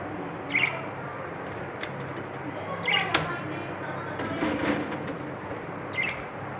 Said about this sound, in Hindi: और ये मेरी आंटी ने तोते रखे हुए हैं।